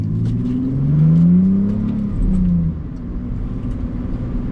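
A BMW Z4 accelerating hard on the Nordschleife track, its mid-pitched engine note rising steadily through the revs, loud and close, then easing off as the car continues at speed.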